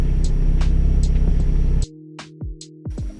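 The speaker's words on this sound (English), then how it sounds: "Car started fine, car sounds fine." A Volkswagen Golf R engine idles steadily with a low, even rumble after tuning, then cuts out, leaving a few faint clicks and short tones.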